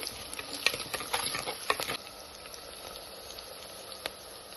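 Curry leaves stirred in a hot pan for a milk-cooked ridge gourd curry, giving a soft scraping rustle with light sizzling and a few sharp clicks over the first two seconds, then a quieter steady fry.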